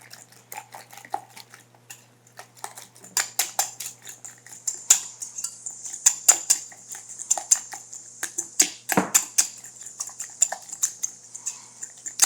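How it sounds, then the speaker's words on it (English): Egg and cheese mixture being whisked in a bowl for a summer zucchini pie, starting with a few light taps, then rapid, steady metallic clinking that grows louder and quickens as the whisking continues; no talking. "And just give this a good whisk."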